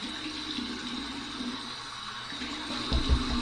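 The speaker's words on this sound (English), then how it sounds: "here's the warm water rinse" Warm water runs from a faucet for rinsing during a head shave, a steady hissing flow with a low splashing burst near the end, close by.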